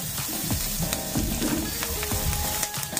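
Garlic fries in a pan with a steady sizzle, broken by scraping and clinking as it is stirred, close and fairly loud, no talking.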